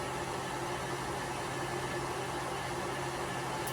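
An electric mixer whips raw eggs for a custard with a steady, unbroken motor whir and a faint hum throughout, close and fairly loud, with no talking.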